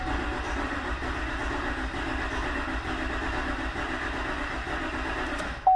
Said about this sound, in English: And listen to the way it cranks.